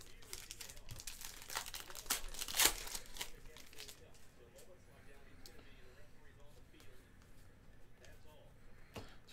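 Cardboard and foil wrappers crinkle and tear as a box of Panini Luminance football cards is opened, with one sharp rip near the start, then softer rustling and handling under a quiet room background.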